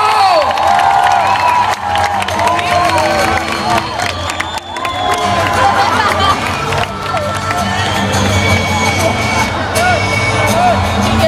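Loud crowd at a BMX mega ramp event cheering, shouting and clapping continuously, with whistles and excited voices layered in a dense, steady roar.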